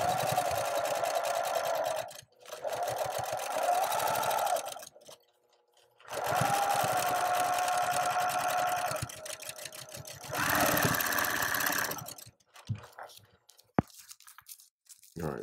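Brother PQ 5000 SL sewing machine stitching quilt rows together, running in long fast bursts of close, steady stitching that stop and restart, with quiet gaps and a few small handling clicks.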